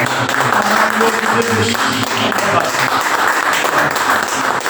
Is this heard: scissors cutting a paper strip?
no